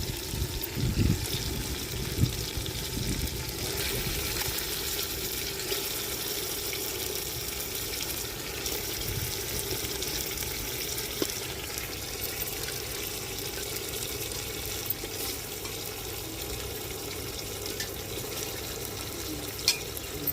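Raw chicken is washed with rock salt under a running tap in an Andhra village-style kitchen, giving a steady, moderately quiet stream of water with faint splashes and handling noise throughout.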